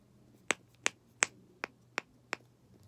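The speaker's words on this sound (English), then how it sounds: "Now I have a black snapper." Black snapper fidget toy snapped six times in a steady rhythm, each a crisp close pop standing alone against a faint quiet background.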